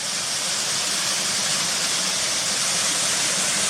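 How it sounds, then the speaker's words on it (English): A small waterfall with a drop of roughly 15 to 18 feet gives off a steady, even rush of falling water, close and unbroken, with no voices. "That's quite a nice little waterfall, that."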